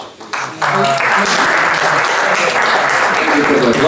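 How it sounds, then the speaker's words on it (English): Audience applause fills a hall at the close of a film Q&A with the director about his winning film 'The Citizen'. After a quieter start it becomes a steady, dense wash of many hands clapping, with a voice faintly underneath. "Thank you for the applause."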